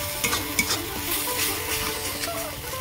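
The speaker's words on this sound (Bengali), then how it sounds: "এইভাবে ভালো করে ভেজে নেব।" Pointed gourd frying in hot oil in a pan, stirred continuously: a constant close sizzle with scraping and stirring strokes against the pan, no talking.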